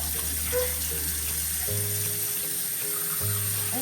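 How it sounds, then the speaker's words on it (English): A water faucet runs with a steady hissing splash that stays even and close, while low musical tones play softly underneath. "let's open the water faucet here"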